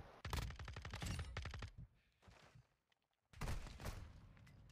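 Shotgun blasts on the Shipment map in Modern Warfare II, a loud rapid volley of shots, a short quieter gap with faint sounds, then another burst of heavy firing.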